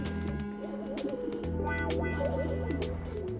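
Pigeons coo close by in soft, repeated throaty phrases layered over a steady low hum, with no voices present.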